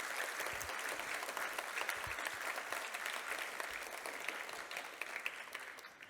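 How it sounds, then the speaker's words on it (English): Students at the WeCareDXB Sustainability Edu-Fest opening receive sustained applause from a large crowd, a steady dense wash of clapping lasting throughout and tapering slightly at the end. "We must give a big round of applause to all of you."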